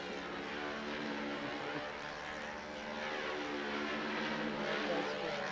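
A model airplane engine flying laps at a national model aviation competition gives a continuous buzzing, propeller-driven drone that holds steady and swells slightly toward the end.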